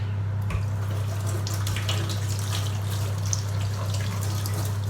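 Dishes and a plastic Tupperware container are washed in a kitchen sink under a running tap, with a steady stream of water and occasional soft clinks heard close up, with no talking.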